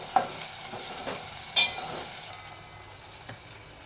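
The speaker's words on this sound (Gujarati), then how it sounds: "તેલમાં બટેટાને રોસ્ટ થાય ને એવી રીતે સડસડાવી લીધા" Potatoes roast in hot oil for a puri shaak, sizzling quietly and steadily, with a few short scraping stir sounds from the pan and no voices.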